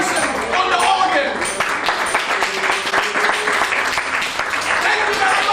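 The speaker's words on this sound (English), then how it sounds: "Can I have a big round of applause" Steady clapping from an audience at a twist dance party show carries through the whole stretch, with a voice speaking over it.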